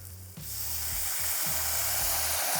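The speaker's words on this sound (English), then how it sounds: "We're going to add our apple cider vinegar." Apple cider vinegar hits a hot pan of onions, toasting cinnamon and barbecue sauce residue. After a quiet start, a sudden loud sizzle bursts up and settles into a steady, bright hiss.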